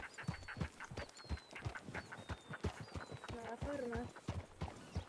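Many horses' hooves clip-clop steadily in the video game RedM, a dense, busy patter of hoof strikes with a short neigh partway through, all close and clear.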